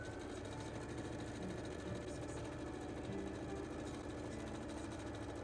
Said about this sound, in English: Taking the skirt pieces I cut out earlier, I sew them together down the side seam like so.